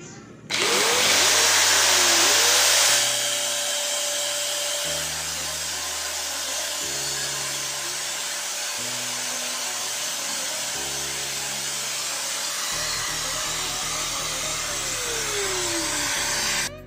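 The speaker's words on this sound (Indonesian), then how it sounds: "saya akan mengukur tingkat getaran dari gerindanya menggunakan velocity ya, atau kecepatan getarannya" Several budget angle grinders (Stanley, Doliz, Hasston, DCK, Ingco) run in turn during a vibration test, giving a loud continuous motor whine with steady hum, shifting pitch as each grinder is switched and spun up.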